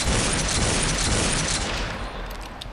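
Rapid-fire shotgun in the online shooter Planetside 1, a dense, continuous burst of blasts blurring together at close range, loud throughout before easing off near the end.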